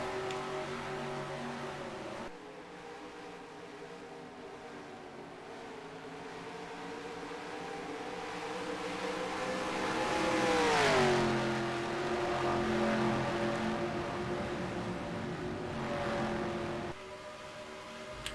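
Race cars in the NASCAR Racing 2003 video game at Auto Club Speedway drone past in a continuous engine whine, one pitch swelling and sliding downward as a car passes, steady and moderately loud without speech.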